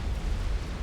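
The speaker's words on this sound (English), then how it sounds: "There's an explosion from a P-Gen." A power generator blows up during a Supreme Commander battle, a brief, dense low rumbling boom that fills the moment without any voices over it.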